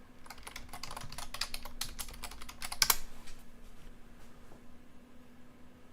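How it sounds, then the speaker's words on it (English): Someone types on a computer keyboard while working on a game. A quick burst of close, crisp key clicks fades to a few scattered taps over a faint steady hum. "I should be typing intersect point."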